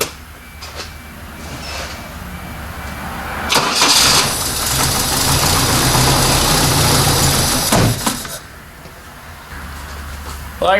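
A carbureted Toyota Corona wagon engine, primed with a little gas down the carb, cranks briefly then fires and revs loudly for several seconds before dropping back, heard up close.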